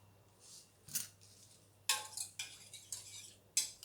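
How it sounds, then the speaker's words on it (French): A whisk clinks against a bowl while mixing a homemade hair mask, giving a few brief, scattered metallic taps and scrapes over a faint steady hum. "Je prends mon fouet."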